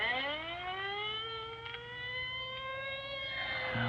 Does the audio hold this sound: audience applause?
no